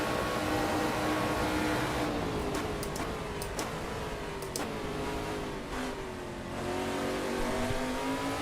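A race car engine in Assetto Corsa drones steadily at high revs with pitch rising and falling through gear changes, alongside a few sharp ticks, loud and continuous with no talk.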